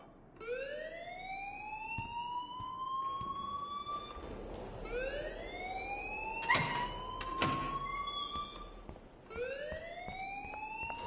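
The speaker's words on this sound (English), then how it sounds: "please turn off that alarm since that's your job" A rising, whooping alarm siren blares at a school in the video game Life is Strange, repeating in long upward sweeps at a steady pace with a couple of sharp knocks partway through and no voices.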